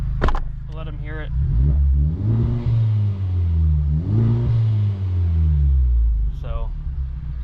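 Honda Civic Type R with a K20 engine and a new Injen stainless exhaust, revving loudly and close in repeated rising and falling pulls, with brief talk at the start and end.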